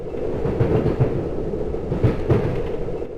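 A one-car automatic trolley train rolling along in the PSX game GERMS, heard from inside: a steady low rumble with periodic clunky rail clacks, loud and continuous with no voices.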